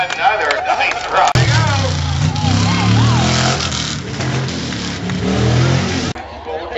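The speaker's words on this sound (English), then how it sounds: "The truck is still running. Because it's a Jeep." A Jeep truck engine at a tough-truck competition, still running after a rollover, a loud close roar with revving swells, while an announcer talks excitedly over it.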